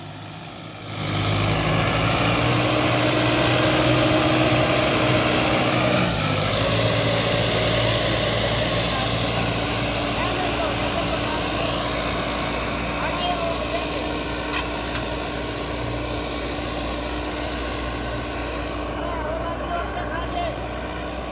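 A Sonalika 750 tractor pulling a double harrow runs steadily for about twenty seconds, a loud, continuous low diesel drone close by without a break.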